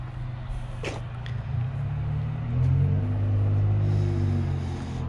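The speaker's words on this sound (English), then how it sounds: "I think I hear the truck and trailer coming down the block now" A truck towing an enclosed car trailer arrives down a residential block. A low diesel rumble swells and grows louder as it nears, and a short hiss and a couple of faint clanks come in early.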